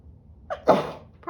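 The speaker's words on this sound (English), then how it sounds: "I'm gonna sneeze." A single sharp sneeze, with a short breathy intake just before it, close and fairly loud against a quiet room.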